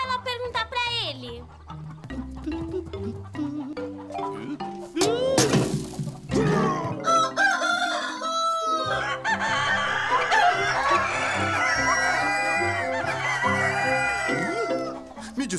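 A cartoon rooster crows amid children's show voices, music and a sudden crash, the crowing loud and close with a cluck, as characters talk over the busy soundtrack.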